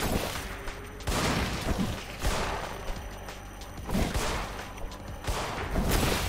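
Gunfire in the horror game In Sound Mind, heavy booming shots roughly once a second over a dense rumbling background, fairly loud and steady.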